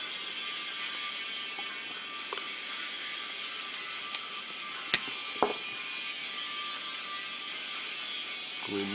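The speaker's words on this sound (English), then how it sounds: "We're going to get our screws in." Small screws are driven into a full-auto airsoft Hi Capa slide assembly, with quiet ratcheting clicks from the turning driver and a couple of sharper metallic ticks near the middle. The sound is faint and close, with no talk.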